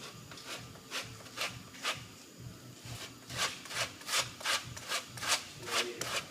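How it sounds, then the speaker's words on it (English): Orange zest is rasped on a small grater with rhythmic back-and-forth scraping strokes, close and fairly quiet, in irregular bursts with no talking. "We're going to add a little bit of zest from an orange. Use this smaller grate."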